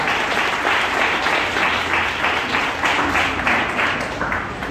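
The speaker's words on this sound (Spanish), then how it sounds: "denle un fuerte aplauso si usted es eso" Congregation at a church gathering gives a strong round of applause, many hands clapping in a full, even roar that swells in rhythmic pulses and fades slightly at the end.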